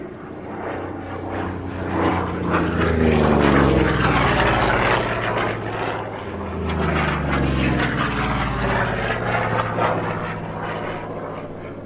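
A Vought F4U Corsair, a gull-winged propeller fighter, passes with a loud, droning piston-engine roar whose pitch sweeps as it approaches and recedes, sustained for about twelve seconds.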